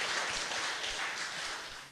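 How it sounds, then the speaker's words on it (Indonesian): Applause from an audience of alumni at an architecture and design campus gathering, a brief wash of dense clapping that stays even and moderately loud before tapering slightly. "Tepuk tangan buat teman-teman alumni."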